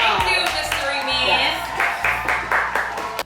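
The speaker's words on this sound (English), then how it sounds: "Let's give a round of applause for our mysterious man in the back." A small audience on a Movie Mondays review show gives a brief round of clapping, a few scattered, moderately loud claps building in the second half under ongoing talk.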